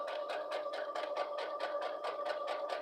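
A sewing machine stitches through muslin fabric for a pouch, a steady rapid mechanical chatter with an even, fast pulsing rhythm, close and moderately loud, with no talking.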